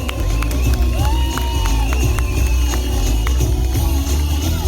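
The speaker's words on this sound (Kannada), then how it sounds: "ಇವರಿಗೆ ಒಂದು ಜೋರಾದ ಚಪ್ಪಾಳೆ" Crowd at a Rajyotsava cultural evening dance performance cheering and shouting, with children's voices and whoops over a dense, steady roar of noise that lasts the whole stretch.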